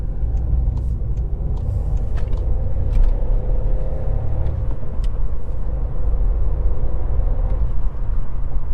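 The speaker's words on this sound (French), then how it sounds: "je vais me remettre en deuxième pour pouvoir accélérer à fond" A car accelerating hard in second gear on a road, heard from inside the cabin as a loud, steady low engine drone with rising strain, a few faint clicks and rattles over it, no talking.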